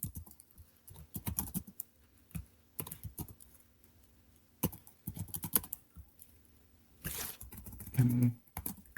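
Typing a file path on a computer keyboard, a run of quick, close, fairly quiet key clicks in irregular bursts with short pauses and a sharper burst near the end.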